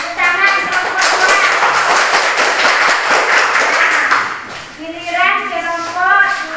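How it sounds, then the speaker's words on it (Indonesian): Classroom of children clapping for a group of classmates, a dense, continuous patter of many hands lasting several seconds, with children's voices rising over it toward the end. "Tepuk tangan kelompok 2."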